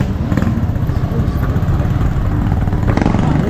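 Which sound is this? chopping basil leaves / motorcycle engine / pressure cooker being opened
motorcycle engine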